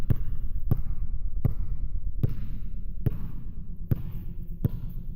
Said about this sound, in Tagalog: Tunog to ng isang bola na tumatalbog sa sahig.